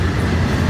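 Train 101 rolls past close by, pulled by three locomotives including a helper engine, a loud continuous rumble of engines and wheels on rail with no pause.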